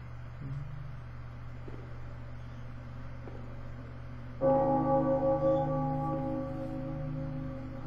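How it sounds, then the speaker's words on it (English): In the video game Bloodborne, a small bell rings out at once, a bright, sustained ringing tone with several steady overtones that fades slowly over a few seconds above a low, constant game-ambience hum. "it's time to ring the little bell"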